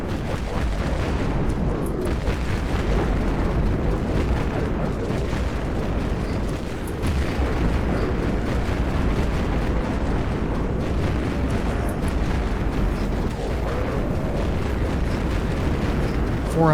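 Grenade launcher blasts in the game Dead Frontier, deep in a wasteland area, pound in a dense, relentless barrage of overlapping booms and crackling bursts that stays loud and unbroken throughout.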